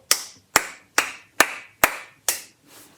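Hands clapping out a rhythm during a cornet and trumpet lesson: seven sharp, evenly spaced claps, close and loud, each ringing briefly in the room, with the last two slightly softer.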